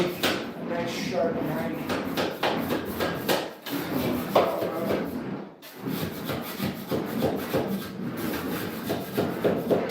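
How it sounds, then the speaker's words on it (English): A drywall knife scrapes joint compound out of a drywall corner in short repeated strokes, gritty and close, with a brief pause partway through and someone talking over the work. "So 3-way looks like we're gonna scrape the corner out."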